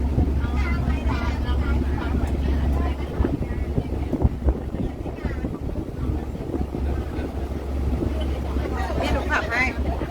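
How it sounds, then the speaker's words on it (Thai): A boat cruises along the Suphan river with a steady low engine drone and gusting wind buffeting the microphone, while people talk over the noise. "อันนี้บรรยากาศการล่องเรือนะครับ"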